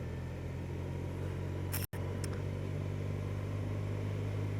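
A BMW R1200RT motorcycle cruising on the motorway, a steady, loud engine drone mixed with wind rush, with a brief dropout partway through.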